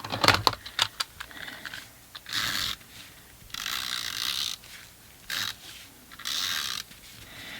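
A Stampin' Up Snail adhesive tape runner rolled across paper during card making, giving several close, dry ratcheting rasps in short strokes, some quick and clicky, others longer and smoother, with brief pauses between.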